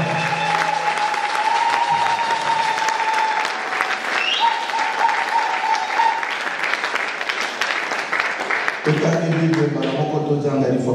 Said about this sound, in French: Acclamons très fort pour le Jésus.